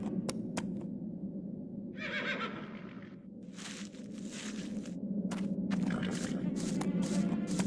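Horse in The Black Mirror video game neighs loudly and clearly, with hoof clip-clops and shuffling movement around it in a quiet stable-like setting.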